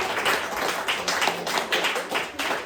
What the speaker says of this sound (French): Donnez un applaudissement quand même, s'il vous plaît.